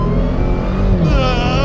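A 2024 Dodge Demon 170's supercharged engine revs loudly up close, its layered harmonic roar climbing with a distinct supercharger whine over the top.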